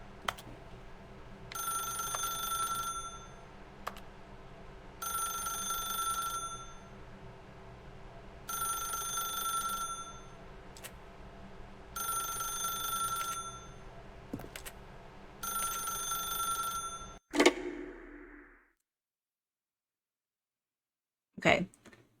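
A telephone rings in the video game The Stanley Parable: five evenly spaced ringing bursts, loud and clear, then a sharp clunk followed by near silence and a final brief click.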